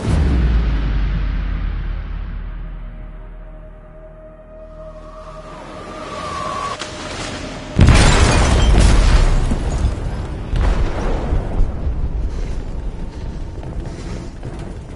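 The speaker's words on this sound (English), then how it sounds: "They detonated an explosive in the hold." An explosive detonating in a ship's hold in the game Detroit: Become Human: a low rumble fades, then a sudden loud boom with a long crashing, debris-filled roar and further bursts that keep rumbling.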